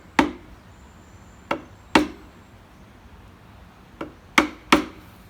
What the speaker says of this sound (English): We're gonna go straight for the knife wall first, just to establish where the cut will be.